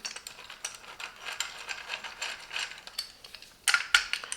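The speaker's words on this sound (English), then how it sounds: "Just unscrew. We can see we have here the hexagonal socket head screw." A hexagonal socket head screw being unscrewed from the jaw pad of a Parkside bench vice, quick close ratcheting clicks in uneven bursts, sharper toward the end.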